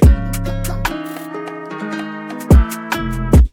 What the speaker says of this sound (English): The 808s in this beat are normally cut off by the rim shot.